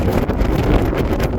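Steady wind buffets the microphone aboard a harbor pilot's vessel as the ship Bahri Tabuk departs Pensacola harbor past Gulf Breeze, a continuous broadband roar with no break.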